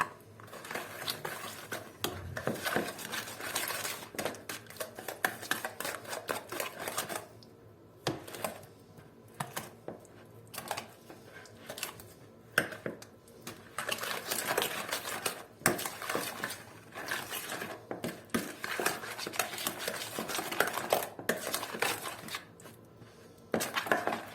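A spoon stirs an egg into brownie cookie batter in a bowl, producing irregular scraping and clinking against the bowl, close and moderately quiet, with a few brief pauses between bursts of stirring.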